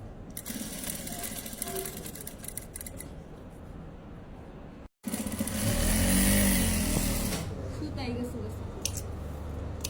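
A sewing machine stitches a blouse in a tailoring shop, a fast rattling run of stitches that speeds up and then stops, with a short gap before another loud run, while a person talks over it.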